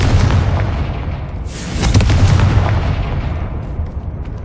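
Confringo fire spell explosion in the Hogwarts Legacy video game: a loud, deep boom with a burst of crackling blast noise in the middle, surrounded by low rumbling game ambience, with no talking.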